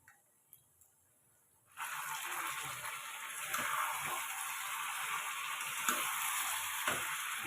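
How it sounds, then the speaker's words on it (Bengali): Chicken and potatoes frying and being stirred in a pan over a medium gas flame, a steady close sizzle that starts abruptly after a few faint ticks and holds, with occasional clicks of stirring. "গ্যাসের ফ্লেমটাকে মিডিয়াম করে এখন আমি চিকেন আর আলুগুলো ভালোভাবে কষিয়ে নেব।"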